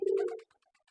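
A domestic pigeon nesting in an iron loft gives a single short, close coo, loud and alone, trailing off into faint soft murmurs.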